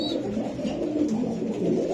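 Racing pigeons give low, soft, rolling coos close by, continuous over a couple of seconds with a faint higher chirp at the start and no voices.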